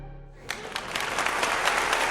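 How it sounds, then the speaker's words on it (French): A theatre audience bursts into applause after a heavy silence: a low hum gives way to scattered claps that quickly build into thick, steady clapping from a large hall. "les spectateurs éclatent en applaudissements"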